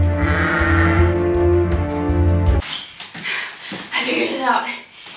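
Sheep bleating loudly and close, a long sustained cry over the first half, followed by breathy, scattered rustling and shorter vocal sounds.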